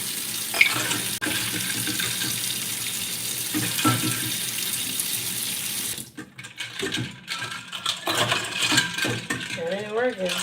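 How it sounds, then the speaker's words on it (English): Hot water runs steadily from a tap into a sink, a continuous close splashing rush that turns more uneven and gurgling partway through, with small clinks and handling knocks. "we running it in the hot water"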